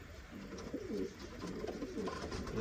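Pigeons coo softly and repeatedly in a low, rounded murmur around a nest with eggs, several calls overlapping steadily with no talking.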